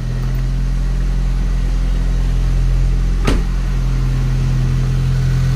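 A Honda Civic FD engine idles steadily after being started following an engine wash, a loud, close, constant low hum with a brief click partway through.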